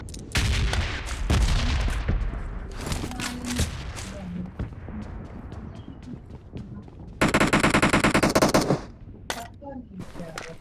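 Gunfire in PUBG Mobile played on a POCO F1 phone: scattered single shots early, then a loud sustained automatic burst near the end, with quieter game sounds between.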